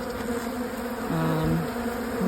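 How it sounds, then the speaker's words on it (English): Honey bees drone steadily around stored hive frames left in boxes after the colony lost its queen, a close, continuous buzz with individual bees shifting pitch as they fly past. "The bees are still here."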